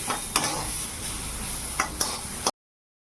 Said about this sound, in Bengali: ফুলকপিটা ভাজা হয়ে গেছে,